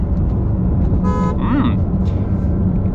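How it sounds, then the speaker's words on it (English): A Porsche 911 GT3 RS sounds its horn in one short, loud toot over a steady engine and road rumble, followed by a brief higher chirping tone. "let's say the situation calls for use of horn"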